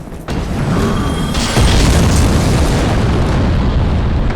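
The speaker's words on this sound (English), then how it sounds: "Just the guy up top who's mad and throwing some bombs." Bombs thrown from above explode in Sen's Fortress in the video game Dark Souls, making a loud, continuous roaring blast and fire rumble that swells midway and stays dense throughout.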